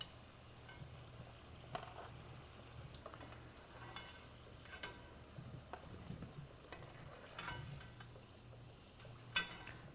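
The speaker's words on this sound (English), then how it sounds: "You don't want to fry them too much." Green plantain slices for Puerto Rican tostones fry in very hot oil, giving a steady low crackle and sizzle with occasional soft stirring clinks, moderately close and without talk.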